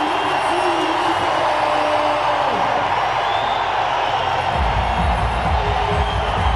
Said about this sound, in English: And the crowd are up and about